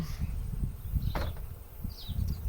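Honey bees around an opened, lightly smoked hive at Kaihere, New Zealand, hum in a low, continuous drone close by, with a few brief higher buzzes as individual insects pass.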